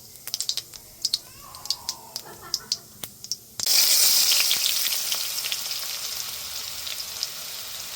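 Cumin seeds crackle in hot oil with sharp, scattered pops, then chopped onion goes into the pan and a loud, steady sizzle takes over and continues to the end, while banana flower curry is being cooked.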